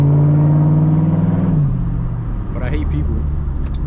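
Ford Mustang with a 3V V8 engine idling and rumbling at night, a steady low hum that shifts and drops midway as the car moves off, with someone talking over the engine throughout.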